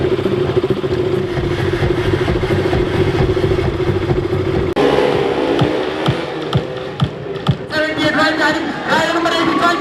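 KTM Duke 200 motorcycles at a rally event, their engines droning and idling, then a series of sharp revs and pops toward the end, with people talking over the noise.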